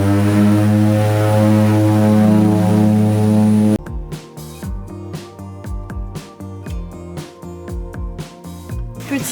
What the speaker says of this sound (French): Troisième et dernier vol dans un tout petit avion, direction une île des Seychelles, Praslin